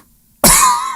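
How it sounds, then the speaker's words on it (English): A single sharp cough bursts out after a moment of silence, loud and close, with a raspy tail fading over the next half second. "I cough."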